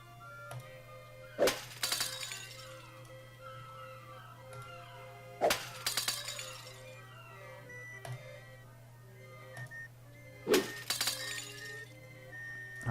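Objects being smashed in the video game On the Rain-Slick Precipice of Darkness: three loud bursts of glassy shattering and crashing, each trailing off into clinks, spaced a few seconds apart over a steady low hum.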